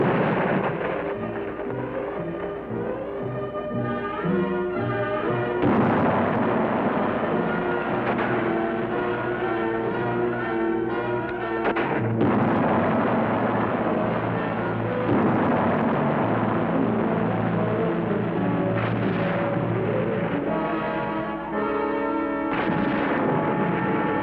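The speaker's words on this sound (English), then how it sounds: "5 batteries of artillery, mortars, anti-tank weapons, and machine guns are brought to bear upon their positions." Heavy WWII artillery, mortar and machine-gun barrage on Bougainville, a dense continuous roar of booms and rattling fire with sharp bursts standing out, layered under a steady tonal music-like bed.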